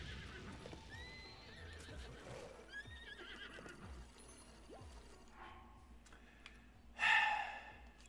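A horse in Zelda: Breath of the Wild, with soft hoof clops and snorting breaths over a faint outdoor ambience, then one loud, close whinny near the end.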